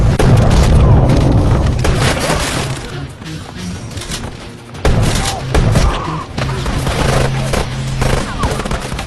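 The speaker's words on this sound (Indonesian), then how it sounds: "Baku tembak pun berlangsung dengan sengit." Gunfight from an action film: loud booms, bursts of gunfire and shattering impacts blend into a dense, continuous barrage with music beneath, easing slightly midway before surging again.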